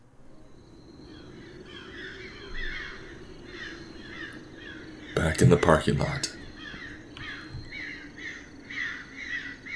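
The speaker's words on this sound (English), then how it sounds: "That's a lot of birds." Several crows caw repeatedly in the video game Those Who Remain, a steady scatter of calls across the scene with a louder burst in the middle, while someone talks over them.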